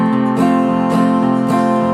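An acoustic guitar plays the strumming pattern of a song, with steady chord strums and walk-in bass runs between the changes, loud and close with no talk.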